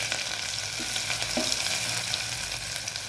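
Cumin, curry leaves, mustard seeds and garlic paste sizzling in hot oil for a spicy Marathi dal amti, a dense, steady, close crackle that fills the whole stretch with no talking.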